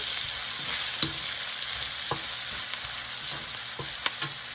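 Chilli frying in a pan for Malaysian-style black pepper crab, a steady broad sizzle with a few sharp pops and stirring clinks scattered over it, close and fairly loud, with no talking.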